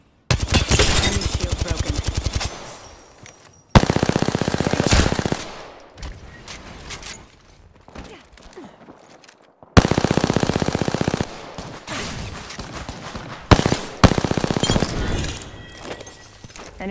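Automatic gunfire in the Apex Legends battle royale, with loud rapid bursts of shots repeating across the clip, separated by short quieter gaps.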